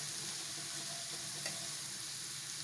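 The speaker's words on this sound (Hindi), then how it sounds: "टिंडे अब फ्राई हो रहे हैं।" Tinda (apple gourd) sizzling as it fries in a pan, a steady close crackle of hot oil running throughout with no voices.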